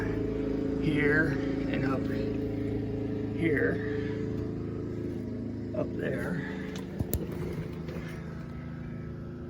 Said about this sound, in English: Sorry for the lawnmower noise.